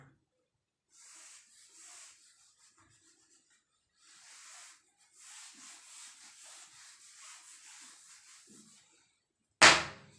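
Writing is rubbed off a classroom board during a physics lesson, several soft, scratchy wiping strokes in short bursts, quiet and close, ending with a sharper knock.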